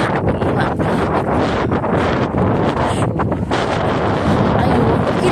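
Strong cold wind in snowy weather roars into the microphone as a steady, loud buffeting rush that never lets up, and it seems to cover some speech.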